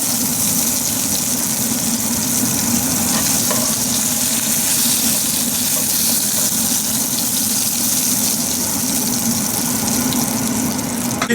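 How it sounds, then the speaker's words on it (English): Fish fries in a pan for a keto dish, giving a steady, loud sizzle throughout with no talking. "Fish is ready now, it's fried."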